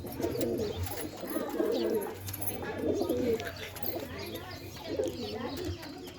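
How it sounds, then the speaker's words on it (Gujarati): Pigeons cooing in low, repeated throaty bursts close by in a loft, with soft chirps and background noise. "તો હવે કબૂતર હમણાં બારે કાઢીએ આપણે"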